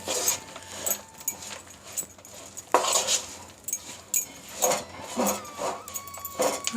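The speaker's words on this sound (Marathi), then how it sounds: "लगेच पटकन शेंगदाणे घालून घ्यायचे, याला उशीर करायचा नाही आणि असं हलवत राहायचं" Peanuts stirred into hot jaggery syrup for chikki, giving irregular scraping clinks and rattles of a spoon against the pan, moderately faint and close, with pauses between strokes.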